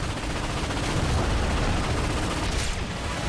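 An ion cannon fires in the video game Ratchet and Clank, making a loud, dense barrage of rapid blasts that roar on without a break, with a brief dip near the end.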